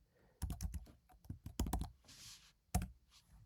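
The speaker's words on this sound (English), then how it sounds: "So let's type password." Password being typed on a computer keyboard at an SSH login to a remote host: a quick run of crisp, close key clicks in uneven bursts, then a short pause and one final firm keystroke, with no talk.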